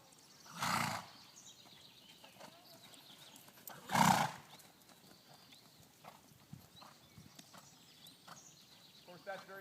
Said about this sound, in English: when you hear your horse blowing out like that